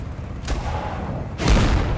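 Gunfire in the war game Foxhole: two heavy, booming shots about a second apart over a dense, rumbling battle backdrop, loud and close, without talk.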